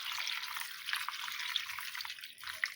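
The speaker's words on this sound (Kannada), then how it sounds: "ಈಗ ನೀರು ಹಾಕ್ತೀನಿ" Water pours and trickles into a pressure cooker during home cooking, a faint, steady splashing with small drips throughout.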